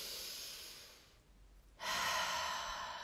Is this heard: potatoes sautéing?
no